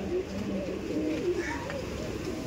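Royal Teddy pigeons coo in soft, rounded, repeated phrases, fairly close over a low background murmur.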